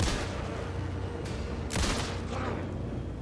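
Gunfire in Alan Wake 2, a few sharp, loud blasts spaced over a couple of seconds, each with a booming tail over a dense rumbling backdrop.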